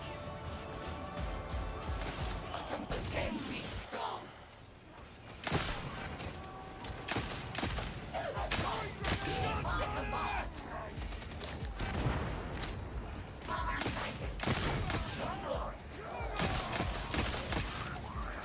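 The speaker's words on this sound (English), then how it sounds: "I thought somebody was shooting through that fence." Dense gunfire in the Warhammer 40,000 Darktide game crackles almost nonstop, bursts of rapid shots layered with impacts and mechanical clatter, loud and chaotic throughout with only a brief lull.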